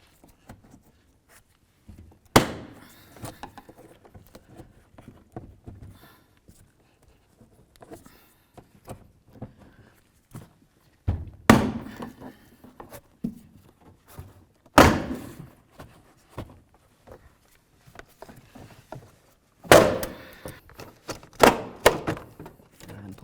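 The front interior door panel of a 2000-2005 Buick LeSabre is pried off, giving quiet plastic creaks and rustles broken by several sharp, loud clip pops and thunks spread across the stretch.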